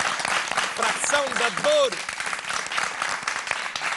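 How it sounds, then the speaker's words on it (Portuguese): Audience applause on a radio show rolls along steadily while a host speaks over it, with a brief whistling tone sliding up and down midway through. "Mais uma salva de palmas, faz favor."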